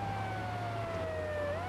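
A police siren from Grand Theft Auto III wails with a slowly falling pitch, faint and steady over a low engine hum, with no talking.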